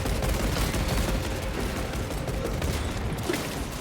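Dense, rapid gunfire fills the Space Marine 2 video game, with loud, continuous overlapping shots and blasts sustained throughout.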